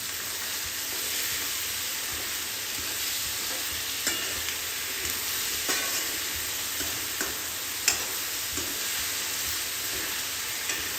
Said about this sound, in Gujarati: ત્યારબાદ આ બધું જ આપણે મિક્સ કરી દઈશું.